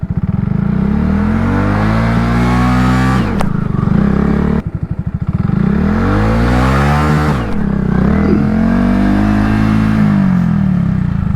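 A Honda Grom motorcycle engine revs hard and close during wheelie attempts, surging up and dropping back several times in loud, rising and falling bursts with a brief cut between pulls.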